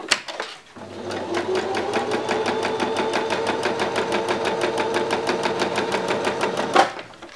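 A domestic sewing machine stitches steadily with a lengthened stitch, its needle tapping in a fast, even rhythm over a motor whir, close and alone for about six seconds before stopping abruptly.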